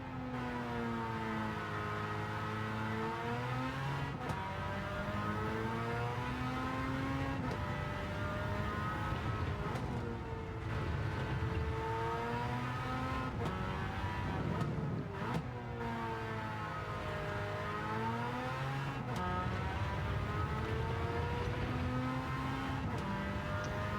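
An engine-swapped 1991 Suzuki Cappuccino race car in Gran Turismo 7 at Deep Forest, its engine revving up and down steadily through gear changes with rising and falling pitch, continuous and close with no talk.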